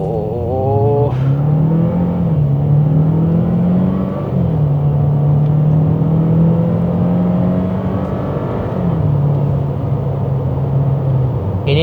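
A 2026 Renault Duster in sport mode revs hard on launch, its engine climbing in pitch, dipping briefly at upshifts and climbing again, loud and close throughout.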